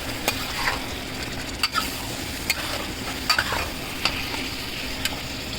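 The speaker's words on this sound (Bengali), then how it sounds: "আস্তে আস্তে মাছটা আমি কষাচ্ছি" Shrimp frying and being stirred into a cooked-down spice paste on medium heat for a bottle gourd curry, a steady close sizzle broken by several sharp scraping clicks of a utensil against the pan.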